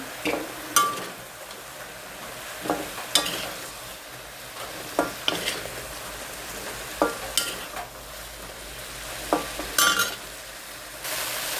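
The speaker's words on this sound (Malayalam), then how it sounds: "അങ്ങനെ നമ്മൾ വറുത്ത് വരും." Half-cooked potato slices fry in oil with a steady sizzle, while a spatula scrapes and clinks against the pan in irregular strokes, close and moderately loud.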